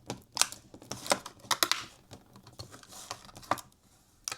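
An RC Porsche toy car is unboxed, with quick clicking, tapping and rustling of packaging close by in irregular bursts and no talk.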